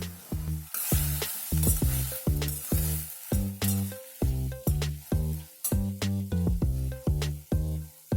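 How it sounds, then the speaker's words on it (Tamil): Steady sizzling of cucumber sautéing in a pan with a little water, with rhythmic bursts as pieces are stirred and tossed, close and fairly loud with no talking. "வெள்ளரிக்காவை லைட்டாக வதக்கிக்கங்க."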